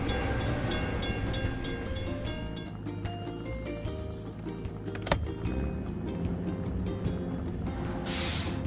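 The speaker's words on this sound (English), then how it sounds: "We have to wait for the train to pass." A train rolls past a closed crossing in a children's video game about excavators and trucks, its steady rumble and rhythmic wagon clatter running throughout with game music tones layered over it.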